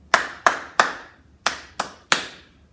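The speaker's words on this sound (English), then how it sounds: "Let's just clap that together." In a children's music lesson, hands clap a rhythm pattern together: six sharp, close claps in two groups of three, the second group following a brief pause, each crisp with a quick decay.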